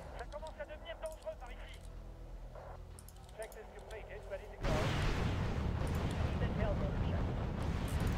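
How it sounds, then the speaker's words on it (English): Tank destruction in the war strategy game Wargame: European Escalation: a sudden loud burst of explosive gunfire and blasts hits midway and keeps rumbling densely, following quieter battlefield ambience with scattered distant pops. "Black Panzer's getting blown up"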